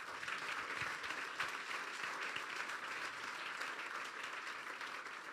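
A church congregation in Dubai claps for Jesus during a sermon, a steady, fairly faint wash of many hands that carries on for several seconds.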